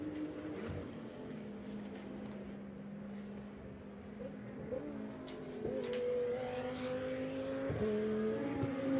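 GT2 race cars lapping a circuit in European Series qualifying, including a KTM, give a steady engine drone that rises in pitch as one car passes close and accelerates late on, with a second pitch line joining it.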